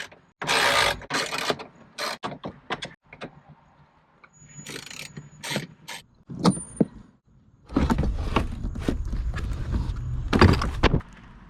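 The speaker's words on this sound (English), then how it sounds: "Now take out the glove box to get to the evaporator." Glove box being pulled out of a car dashboard during AC expansion valve work: a run of plastic clicks, snaps and rattling knocks in separate bursts, close up and alone, with quiet gaps between them.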